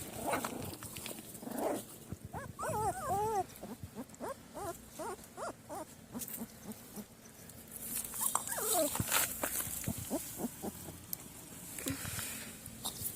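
Puppies yelp and whine in short high-pitched bursts, grouped in two clusters with pauses between them, set against a rustling, pattering background at a family home.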